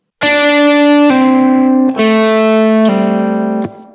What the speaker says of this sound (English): Pull off, which sounds like this.